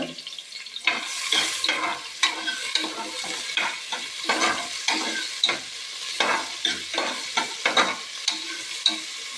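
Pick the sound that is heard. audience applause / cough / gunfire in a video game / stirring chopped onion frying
stirring chopped onion frying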